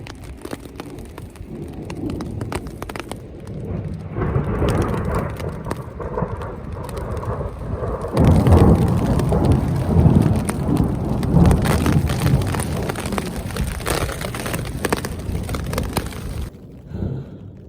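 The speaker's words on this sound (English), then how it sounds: "Storm number 2 has rolled in." Heavy rain pours steadily on a mountain backcountry campsite in the Tetons while low thunder rolls and rumbles, growing louder midway before easing off near the end.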